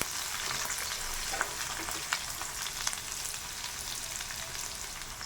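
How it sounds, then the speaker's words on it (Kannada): Green chillies, curry leaves and onions fry in hot oil, a steady close crackling sizzle with scattered pops throughout, no voices. "ಹಸಿಮೆಣಸಿನಕಾಯಿ, ಸ್ವಲ್ಪ ಕರಿಬೇವು, ನಂತರ ಈರುಳ್ಳಿಯನ್ನು ಹಾಕಿಕೊಳ್ಳಿ"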